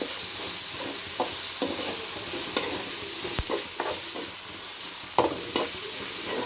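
Ginger paste for semiya upma fries in a pan with a continuous close sizzle, punctuated by scattered scraping clicks of a spatula stirring it.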